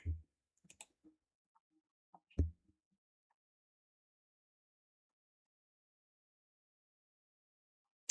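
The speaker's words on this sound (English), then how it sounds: "Let's click on Twitter here." Two or three faint, sharp computer mouse clicks spaced a second or so apart, followed by near silence.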